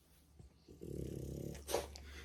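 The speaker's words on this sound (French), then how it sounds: "Quel cochon! Des ronflements." A dog snores close by indoors, a single long rasping, growly inhalation building to a snort, fairly quiet against a low room hum.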